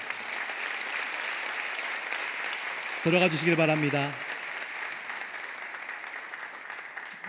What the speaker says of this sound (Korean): 돌아서 교우들의 인사하실 때 큰 박수로 격려해 주시기 바랍니다